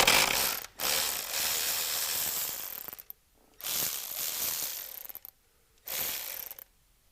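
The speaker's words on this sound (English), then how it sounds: "So we need to loosen the intake manifold, so that's what I'm going to do now." Ratchet wrench clicking in three bursts while loosening the intake manifold bolts on a BMW N55 engine, close and loud, separated by short pauses with no talking.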